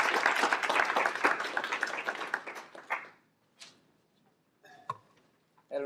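Audience applause at a sustainable energy breakfast event, a dense burst of clapping that fades out after about three seconds, followed by a few scattered claps and small noises in a quiet room.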